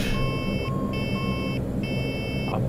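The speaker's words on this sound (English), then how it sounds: "Oh, stop beeping at me now." Cockpit warning tones in a Saab 340 in the X-Plane 11 flight simulator: a repeating electronic beep pattern in short bursts over a steady low engine hum.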